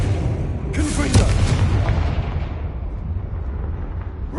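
A Confringo fire blast spell explodes in Hogwarts Legacy, a sharp burst followed by a rumbling roar and a long fading tail over low game ambience, with a voice heard in the game.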